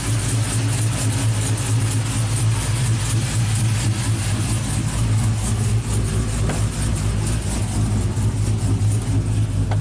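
A tuned 2000 GMC Sierra with a 5.3 V8, camshaft and exhaust idles loud and close, running rough with a misfire, its low rumble steady and uneven for about ten seconds without talk.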